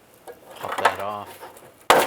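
A trim tool pops a plastic push pin off the fuel tank strap heat shield of a 2005-2007 Ford Five Hundred. Someone speaks briefly, then one sharp, close snap ends the clip.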